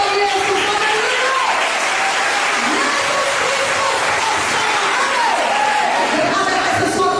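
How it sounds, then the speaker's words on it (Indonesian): A church congregation at a revival service applauds in a steady, sustained wash of clapping that fills the space for several seconds, with voices mixed into the crowd noise. "Ada tepuk tangannya bagi Yesus."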